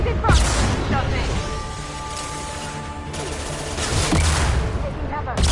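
Gunfire in the video game Mass Effect Legendary Edition on PS5, dense overlapping shots and bursts loud throughout a chaotic firefight, with game voices and effects mixed in.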